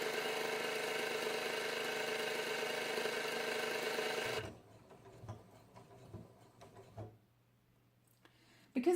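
A Janome MC6600P sewing machine stitches a fabric tag in one steady, loud mechanical whir for about four seconds, then stops, leaving faint clicks and handling noises.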